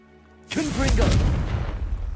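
A Confringo fire spell in a Harry Potter video game bursts into a sudden loud booming explosion that rumbles on and fades slightly, with a voice mixed in.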